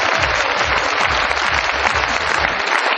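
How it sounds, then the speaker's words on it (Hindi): A large audience claps at a seminar event, dense and loud continuous applause with a steady rhythmic beat underneath, no speech. "तो आप ताली बजाने में टेंशन क्यों ले रहे हो?"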